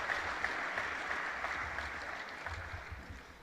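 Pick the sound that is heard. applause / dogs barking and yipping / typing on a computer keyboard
applause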